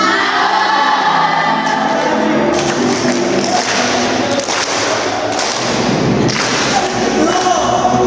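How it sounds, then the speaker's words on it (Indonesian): Indonesian civics classroom where students clap hands in rhythm while singing a Pancasila song, steady loud clapping mixed with group voices throughout. "Sambil tepuk tangan."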